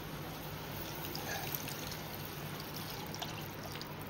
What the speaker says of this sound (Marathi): आणि 1 ग्लास पाणी टाकूया